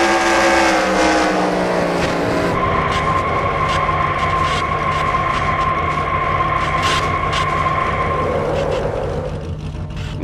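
Onboard engine sound from a stock car in a sim race as it loses control, a loud steady high-pitched engine drone that shifts pitch after a couple of seconds and runs on before fading slightly.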